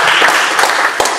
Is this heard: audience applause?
yes